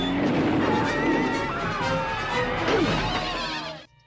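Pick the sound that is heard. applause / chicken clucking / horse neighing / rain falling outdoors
horse neighing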